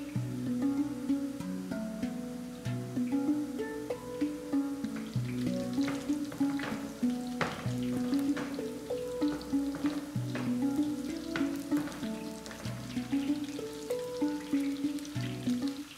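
Meatballs stuffed with minced meat and walnuts fry in oil, with a steady crackling sizzle running throughout and occasional soft scrapes and knocks as a wooden spoon turns them; no one speaks.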